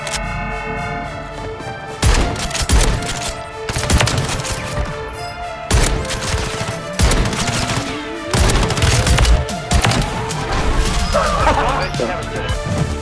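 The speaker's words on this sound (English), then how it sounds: "This mother effing shotgun is absolutely overpowered" Reclaimer 18 / Spas 12 shotgun firing in a first-person shooter game, several loud separate blasts roughly every two seconds over background music, with a voice talking throughout.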